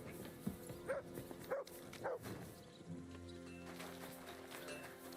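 A dog in the video game Kingdom Come: Deliverance II barks several times in quick succession, moderately loud, followed by a low background hum and faint thumps.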